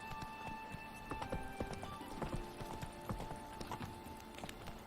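Roach, a horse in The Witcher 3, gallops with a rapid, steady clip-clop of hooves over a low, sustained hum of background game music.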